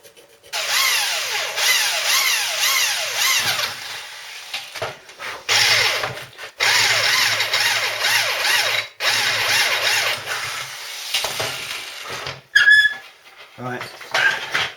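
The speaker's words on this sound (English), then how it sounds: "Drill them off centre so I can get to the nuts on the back." A power drill bores holes through a metal bracket for a Triumph project in a home garage, whining in long steady runs with brief pauses between, loud and close, ending with a few clanks.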